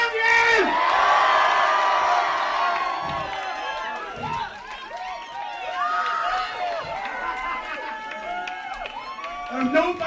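A concert crowd in Bristol cheers and whoops loudly at the close of a tour show, a dense, sustained roar with shouts rising out of it throughout.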